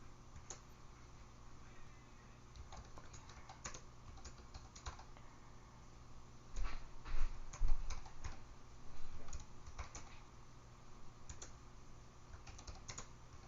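Typing on a computer keyboard while grading questions, with steady quiet clicking and small bursts of faster, louder keystrokes in the middle, close and alone without talk.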